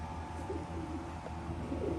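A pigeon coos steadily in a breeding loft, its low, throaty rolling calls repeating close by against a constant background hum.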